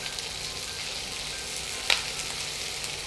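Onions sizzle steadily in hot oil in a pan, a bright even hiss with one brief crackle, alone without talk.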